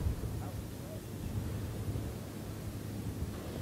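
Wind buffets a microphone on the shore at Brigantine during Hurricane Jose, a steady loud low rumble filling the whole moment without a break.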